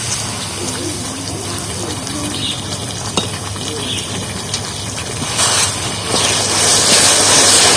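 Raw papaya being stirred into sugar in a pan over the heat, a steady wet churning and bubbling texture that swells louder toward the end, with faint scraping.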